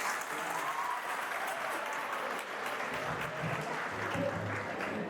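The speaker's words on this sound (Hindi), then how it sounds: "ताली तो बनता है" Audience at a medical college lecture in Indore applauding, a steady dense clapping that continues throughout without a break.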